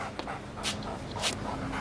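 A dog panting and whimpering softly indoors, with two brief breathy bursts over a low hum.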